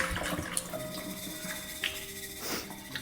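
Sprouting seeds swished around in water inside a container, a soft continuous sloshing and splashing with a few brief bright clinks, fairly close and steady throughout.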